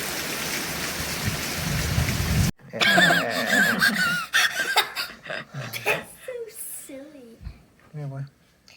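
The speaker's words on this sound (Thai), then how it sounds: "วันนี้ฝนตกค่ะเพื่อนเพื่อนค่ะ ตกแบบหนักตกแบบแรงเลย" Heavy rain pours down hard in a dense, loud hiss for a couple of seconds, then cuts off abruptly as people nearby talk and laugh.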